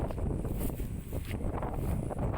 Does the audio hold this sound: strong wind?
yes